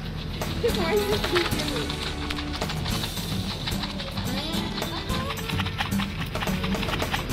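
A large goat's hooves clatter in a quick, irregular rhythm as it is let loose and runs during a 4-H animal color preference activity, heard through steady background noise while people talk nearby.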